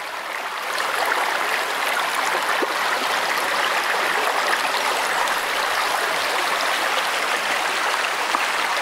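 Steady, full rush of a stream flowing beside a muddy hiking trail in the Zemplén hills, a constant close wash of water with no breaks and no voices.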